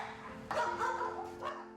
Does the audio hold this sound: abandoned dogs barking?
yes